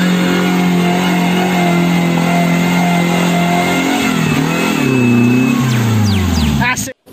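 A toy jeep plays a recorded engine sound, a steady loud idle hum that rises and wavers into revving before cutting off abruptly at the end.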